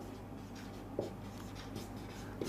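Pen scratching on paper as a maths lesson is worked through by hand, a soft continuous scribbling with small strokes, close and quiet over a low steady hum.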